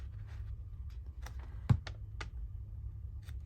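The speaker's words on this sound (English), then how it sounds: "I'm going to snip my corners." Scissors snip the corners of paper in a quiet craft setting: a handful of faint, crisp, separate cuts spaced irregularly over a low background hush.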